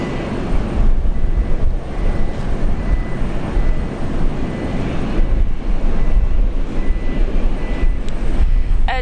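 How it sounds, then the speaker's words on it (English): A jet airliner departs Brisbane International Airport on its way to Sydney, its engines giving a loud, steady roar and broad rumble that holds for the full nine seconds with small swells, and no talking over it. "Flight 337, heading off to Sydney."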